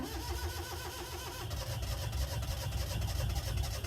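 A small outboard motor sputters and churns continuously with a steady low rumble that grows slightly louder, close by, with no voices over it, as it is test-started after reassembly in winter cold.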